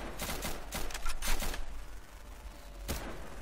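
Rapid gunfire from a Garry's Mod roleplay match on the GM_lair map, a string of sharp cracking bursts in quick succession that falls to a lull and then ends with one last shot, fairly close and with no talking over it.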